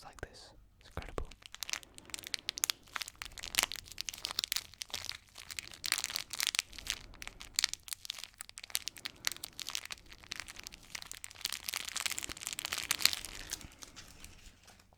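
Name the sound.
crinkling of packages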